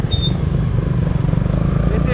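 Motorcycle engine running loud and close in a steady low chugging idle, with a brief high squeak at the start and light clatter throughout.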